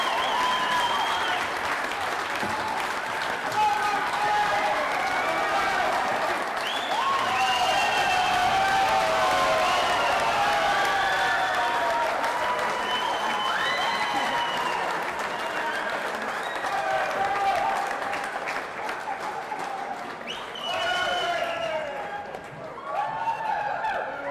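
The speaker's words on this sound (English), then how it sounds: "the huge crowd from Galway giving Martin the reception he deserves" A huge crowd applauds and cheers at the close of the 2018 All-Ireland four-wall men's singles handball final, with steady, dense clapping sustained throughout and a commentator's voice running underneath.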